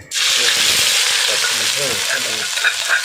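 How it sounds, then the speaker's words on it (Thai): Chilies and spices dry-roasting in a pan for an Isan herbal dish, giving a loud, continuous dry hiss that starts abruptly and carries uneven stirring rustles and scrapes throughout, close up. "เดี๋ยวพี่แหนนก็จะคั่วพริกคั่วเครื่องมาก่อนนะครับ"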